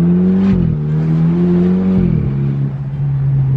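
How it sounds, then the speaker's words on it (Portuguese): A BMW convertible with a straight-pipe exhaust and turbo revs while parked, producing a loud, close, throaty engine drone that rises in pitch twice and then settles back to a steady idle. "Mas parado, acelerando a turbina, tipo, você sente bem mais a turbina"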